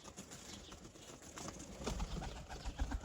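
Baku pigeons coo softly in a low, repeated murmur, with faint rustling and the occasional flutter of wings nearby.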